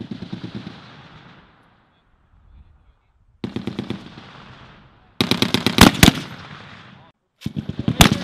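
Bursts of gunfire from weapons on an army live fire exercise with a chemical brigade, loud sharp cracks in rapid clusters, with a quieter opening stretch and brief gaps between volleys.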